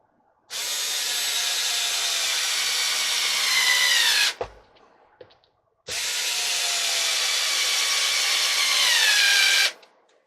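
A power drill drives two screws into the horizontal member of a hotwire foam-cutting bow, with two loud, close whirring runs of about four seconds each, separated by a brief pause with small clicks.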